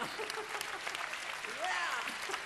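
Audience at a ventriloquist show clapping their hands, a quiet, dense patter of applause throughout with a voice faintly audible over it.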